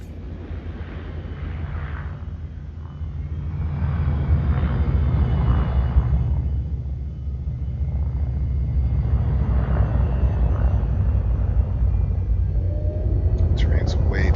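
In the video game Horizons, a spaceship descends to land near the edge of a crater with a low, steady engine rumble that swells midway, soft whooshing thrust over it, and faint beeps near the end.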